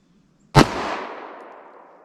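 One loud, sharp crack from a full-size 9mm pistol firing a Federal HST +P round, with a ringing tail that fades over about a second and a half.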